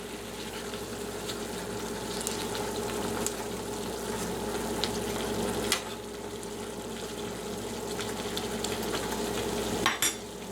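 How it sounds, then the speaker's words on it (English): A Bird's Eye frozen dinner fries and sizzles steadily in a pan while it is stirred, with scattered clinks and scrapes of the utensil and a sharper knock near the end. "I'll stir it here."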